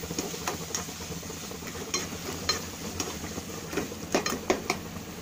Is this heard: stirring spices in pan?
yes